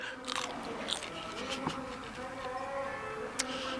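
Someone bites into a raw cheongyang chili pepper at the Garak market pepper auction, making a couple of short, crisp crunches over a low background murmur.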